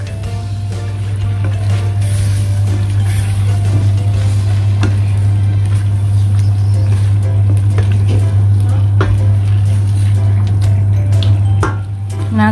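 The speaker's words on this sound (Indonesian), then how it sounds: "Sekarang kita bisa masukkan nangkanya. Nah, kita aduk." A pan of young jackfruit being stirred into fragrant curry spices for Padang-style gulai, with steady scraping and soft sizzling over a loud constant low hum from the stove or a fan.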